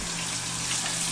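Steady running water pours close by while a liner is washed by hand with soap, a continuous even gush with no talking.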